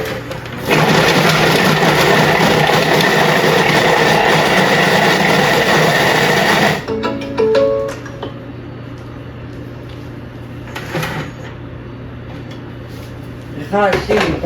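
A Thermomix TM7 running at speed 5 blending juice, a loud steady whirring drone for about six seconds that then stops, followed by quieter knocks and clatter with a person talking.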